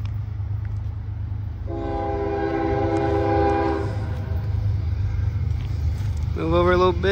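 A Norfolk Southern coal train rolls past in Ironton, its horn sounding loud and close in a long steady blast, then a second horn call near the end, over a constant low rumble of moving railcars.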